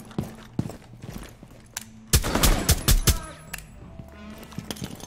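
A frag grenade goes off in Rainbow Six Siege as a sudden loud burst with several sharp follow-up cracks. It stands out midway among scattered quieter clicks and steps.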